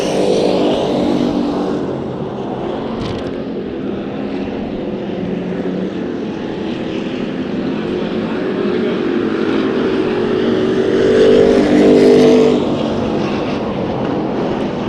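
Hobby stock race cars roar around a dirt oval at Perris Auto Speedway during a heat race, engine noise swelling and fading as the pack passes, loud and continuous from a distance.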